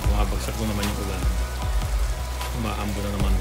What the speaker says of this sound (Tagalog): Umaambo na naman dito.